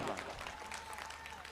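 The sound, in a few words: audience applause at a mushaira poetry event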